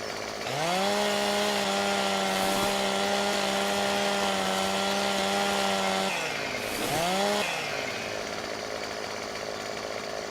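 A virtual chainsaw in Farming Simulator 17 trims branches off a felled tree. Its engine holds a steady, loud, buzzing whine that drops briefly and then revs back up, with no voices over it.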